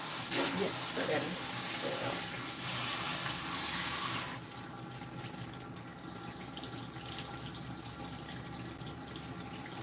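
Tap water runs into a hair salon sink for hair washing, a loud steady rush for about four seconds that then drops to a softer trickle.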